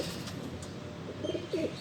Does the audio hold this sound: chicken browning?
no